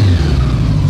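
A vintage Honda Goldwing motorcycle, a barn find, idles after being revived, giving a steady, loud, close low engine rumble with no talk.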